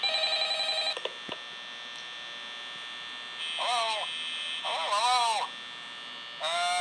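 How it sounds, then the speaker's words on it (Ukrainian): A telephone in the video game Five Nights at Freddy's rings in repeated electronic bursts over a steady electrical hum, loud and clear with no talking. "Дзвонить телефон."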